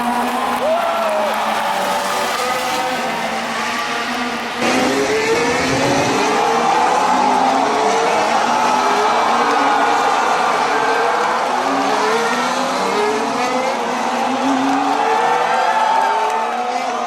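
Formula 1 race cars from F1 Manager 2024 scream past on a straight, engine notes rising and sweeping by one after another over crowd noise, with a commentator's voice running underneath.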